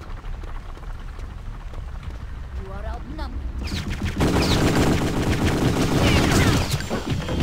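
Rapid gunfire from Return to Castle Wolfenstein: a brief voice first, then dense, loud bursts of automatic shots crackling continuously through the second half.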